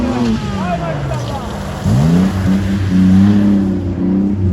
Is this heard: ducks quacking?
no